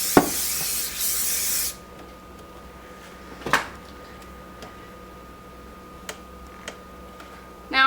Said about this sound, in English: take your hairspray and spray this side